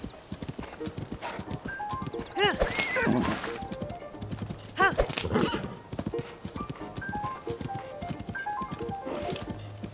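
A horse in Zelda: Tears of the Kingdom clip-clops along with steady hoofbeats and lets out a couple of whinnying neighs, set against game ambience and music.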